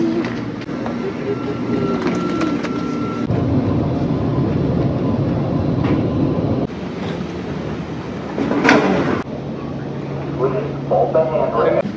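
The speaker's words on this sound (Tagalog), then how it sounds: "Sky Harbor Airport. Sasakay kami ng tram." Riding the airport tram at Phoenix Sky Harbor Airport: a steady rumbling rail hum with squeals, clicks and a bright screech, while people talk throughout.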